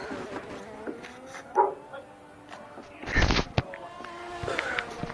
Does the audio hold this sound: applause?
no